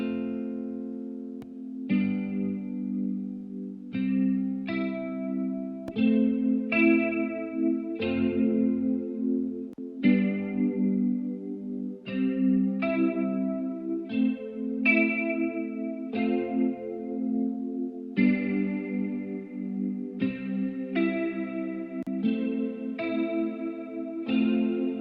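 Guitar layered with a soft synth pad, processed through chorus, echo and reverb effects into a soothing, calming texture; a steady flow of overlapping plucked chords and sustained tones, moderately loud and with no voices.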